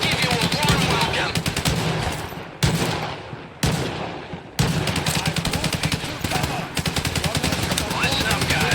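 Rapid bursts of automatic gunfire crackle almost nonstop in the video game S.T.A.L.K.E.R. 2: Heart of Chornobyl, loud and close, broken by a few brief gaps before the shooting resumes.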